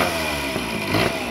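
A motorcycle engine revs after carburetor work, holding a loud, close, continuous buzzing drone with slight swells in pitch.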